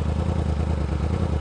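A Yamaha R1 motorcycle from 2016 runs close by with a steady, rumbling engine note and a little mechanical clatter, holding an even idle-like pulse throughout with no talk over it.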